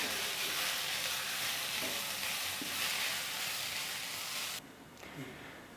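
Half-cooked cucumber is stirred with ground coconut paste in a pan, producing a steady, hissy sizzle that continues for several seconds before dropping suddenly to a quieter hum with a few light scrapes.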